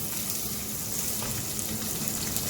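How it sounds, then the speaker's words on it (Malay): Onions and spices sautéing in hot oil for a prawn and okra curry, a steady dense sizzle and crackle close by, continuous and without voices. "Okey, kita tumis sampai wangi."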